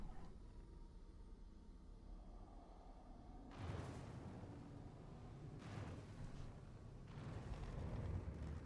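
Enemy missiles strike a ship in Star Citizen: three heavy, rumbling impacts land a couple of seconds apart over a constant engine roar, each a broad, booming blast that lingers briefly, with no speech.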